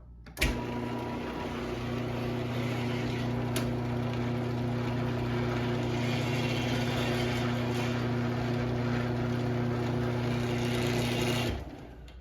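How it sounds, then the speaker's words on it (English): A Genie GCG350ML chain-drive garage door opener runs continuously for about eleven seconds, a steady mechanical hum and whir with the chain rattling in its rail, starting with a clunk and stopping abruptly. "Of course, the chain does make some noise in the rail"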